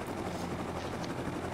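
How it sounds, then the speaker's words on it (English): Video game helicopter with a steady, dense rotor drone filling the whole short stretch at a constant level, no talk over it. "I hear my helicopter."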